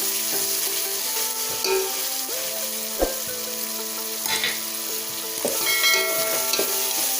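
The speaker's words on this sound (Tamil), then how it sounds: "நல்லா இதெல்லாம் போட்டு நல்லா மிக்ஸ் நல்லா வதக்கிக்கோங்க" Onion, tomato, ginger and garlic sizzle steadily in hot oil for a vegetable biryani, with occasional scrapes and clinks of a spoon stirring the pan; no one speaks.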